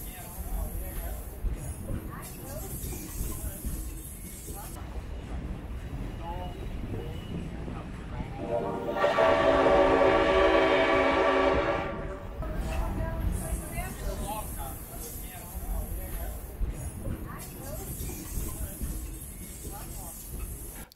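A vintage train pulling open-air cars rumbles along on the way to Pinehurst Country Club, a long sustained horn blast sounding midway over the rolling clatter, with people talking throughout.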